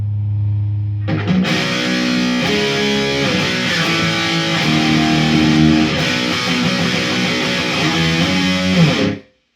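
Heavily distorted electric guitar playing sustained chords through a distortion pedal, loud and thick, continuing for several seconds before cutting off abruptly.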